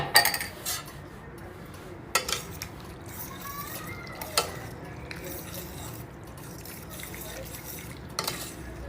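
A utensil stirs habanero into okra pasta in a pan, with a soft ongoing scrape and sizzle broken by several sharp metallic clinks against the pan, close and fairly quiet.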